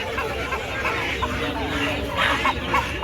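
Sonali chicken chicks at a busy poultry market give a constant mass of bright cheeping and clucking. Crowd chatter runs underneath at a steady, fairly loud level.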